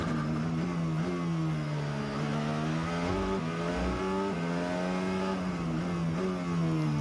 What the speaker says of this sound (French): Le passage de la ligne pour Bottas.